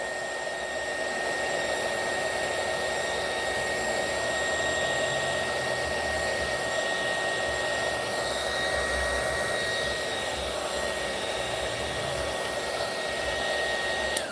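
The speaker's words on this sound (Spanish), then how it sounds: "todo con pistola de calor" A heat gun melts beeswax for candles over glass, giving a steady, loud blowing roar with a constant whine, unbroken for the whole stretch and with no talking.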